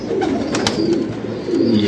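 Faqeer Gul breed pigeons from paired breeding stock cooing close by, soft repeated rolling coos over steady background hum, with no talking.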